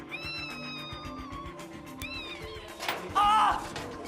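A hidden cat meows from inside a vent during a home renovation, a few harmonic meows near the start, then a louder, closer cry near the end over a busy background of movement and work noise.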